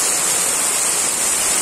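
Heavy rain pours down outdoors during the rainy season, a loud, steady hiss of falling water with no break and no voices.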